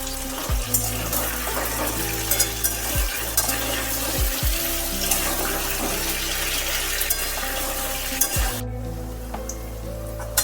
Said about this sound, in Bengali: আলুগুলো ভাজা হয়ে গেল